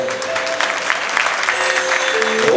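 Festival audience at a Ganga Dussehra celebration in Kolkata breaking into loud, dense applause, a continuous wash of many hands clapping close by, with no talking over it.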